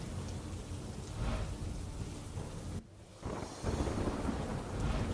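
Heavy rain pours down in Gujarat, a dense continuous roar of falling water with gusty wind buffeting the microphone and a brief dip midway before the downpour surges back strongly.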